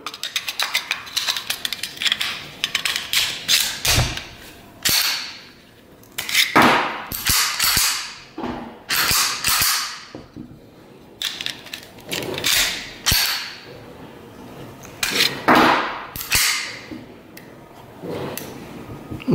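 A Walther PP pistol gets a function check, its slide racked and trigger dry-fired in a series of sharp, close metallic clicks and snaps, with brief sliding scrapes between, and no talk.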